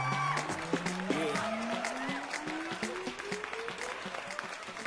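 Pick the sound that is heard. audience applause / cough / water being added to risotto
audience applause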